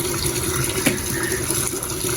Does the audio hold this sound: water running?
yes